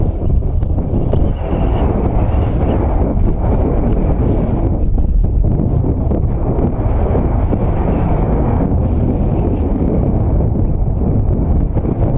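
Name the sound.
violent tornado winds blowing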